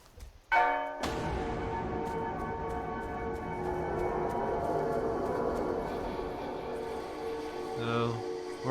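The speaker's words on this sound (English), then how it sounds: "Ring the bell." In the video game Betrayer, a large bell is struck once and rings out loud and sustained, its long resonant tone slowly fading over several seconds.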